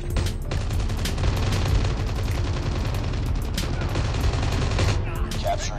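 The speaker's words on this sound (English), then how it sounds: "Sentry gun deployed." An automated sentry gun fires in Call of Duty Mobile, a steady rapid stream of close, loud shots that runs nearly unbroken, with a few heavier reports mixed in.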